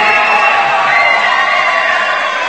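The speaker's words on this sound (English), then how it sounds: "enjoys the crowd cheering" A crowd cheers and whoops at a climbing competition after a climber tops out, a sustained bright roar of many voices filling the space without letup.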